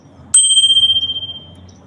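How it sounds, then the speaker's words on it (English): A handlebar-mounted bicycle bell on an e-bike rings once with a bright, clear chime that rings out and fades over about a second, close to the microphone. "That's the bell that's on the handlebars."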